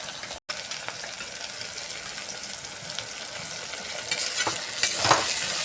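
Ginger-garlic paste and chopped tomato are stirred in a hot pan, a close, steady sizzle with scraping stir strokes that grows a little louder toward the end.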